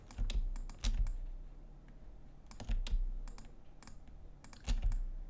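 Computer keyboard and mouse clicks while shift-clicking in the Maya 3D software, heard as close clusters of sharp taps and clicks in short bursts separated by quieter pauses, with no talking.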